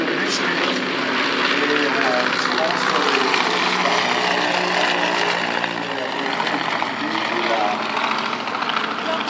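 A Junkers Ju 52 trimotor drones loudly overhead at the La Ferté-Alais airshow, its propeller engines a steady throbbing roar throughout while someone talks in French over it.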